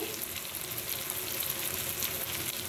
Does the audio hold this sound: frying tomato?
yes